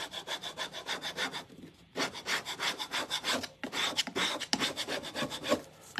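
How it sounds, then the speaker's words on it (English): A paint scraper drags over a painted surface to strip off old Rookwood Red paint. Close, steady rhythmic strokes come in quick succession with a brief pause partway through. "Now I'm just going to take my paint scraper."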